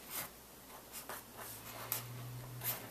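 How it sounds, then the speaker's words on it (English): Several soft, scratchy pen strokes are written out one after another in a quiet room while working through an algebra FOIL problem, with a faint low hum underneath. "I'm going to write this a little bit bigger than normal so that we can see"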